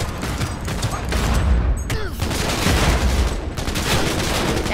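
Gunfire in the Cyberpunk 2077 video game, a dense run of shots and bursts that keeps going throughout with a short clearer stretch near the middle, loud and close and mixed with game background noise.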